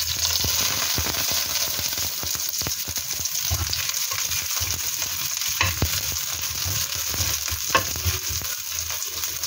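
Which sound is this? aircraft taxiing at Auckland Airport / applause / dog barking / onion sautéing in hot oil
onion sautéing in hot oil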